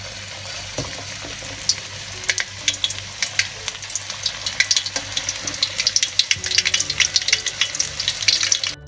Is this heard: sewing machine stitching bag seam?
no